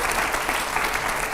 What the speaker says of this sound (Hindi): ये देखिए जोरदार तालियां हो उस पे